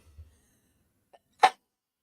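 A single sharp human sneeze, close and loud, preceded by a faint breath and a small intake sound in an otherwise quiet room.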